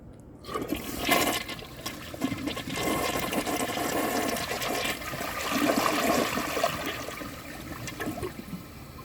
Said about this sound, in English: The flush is actually pretty nice.